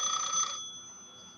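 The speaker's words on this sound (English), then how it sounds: "Oh, the phone was ringing." A telephone rings with a bright electronic tone that stops after about half a second, leaving only quiet room hiss.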